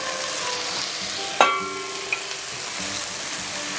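Spice paste for Indonesian yellow coconut chicken sizzles steadily in a hot pan, a continuous close hiss with one sharp utensil knock and a faint tap as it is stirred.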